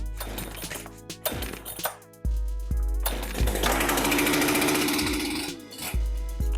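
A chainsaw engine revs and sputters with loud mechanical rattling, stalling briefly between bursts before settling into a steady, close running drone.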